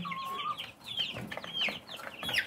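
Young Rhode Island chickens on a farm give a few short clucks and chirpy calls over steady farmyard background noise, with no talking.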